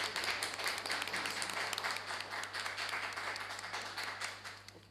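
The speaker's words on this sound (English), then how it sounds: "Another round of applause, please." Debate audience applauding, a sustained dense round of clapping from many hands at moderate distance, fading slightly toward the end with no voices over it.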